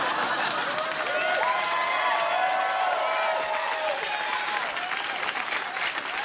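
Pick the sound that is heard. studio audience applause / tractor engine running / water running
studio audience applause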